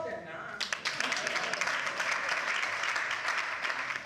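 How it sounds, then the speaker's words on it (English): A crowd at a public ceremony breaks into sustained applause, many hands clapping in a dense, steady wash after a brief quieter opening, with voices faintly mixed in. "Applaud them now."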